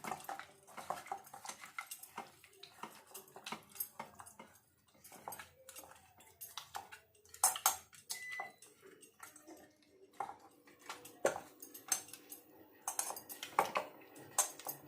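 Fish being mixed by hand with mustard oil and masala in a metal bowl, soft wet squelches mixed with scattered clinks and scrapes against the bowl in an irregular rhythm, close by, with no talking.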